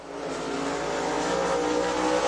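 Chris Fennell's race car C87 from Dallas, Georgia, runs a qualifying lap at Rome Speedway, its engine a loud, steady, high-revving roar that holds and builds slightly throughout.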